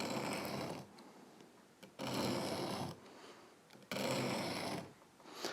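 A grafting knife blade is drawn in arcs across a grit sharpening stone, making three rhythmic, rasping strokes with brief pauses between them, close and fairly quiet.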